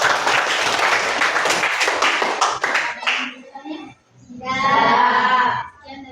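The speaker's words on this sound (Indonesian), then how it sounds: "tepuk tangan untuk kelompok 1" A classroom group claps briefly for a student group for about three seconds, the sound thinning out before a person starts talking.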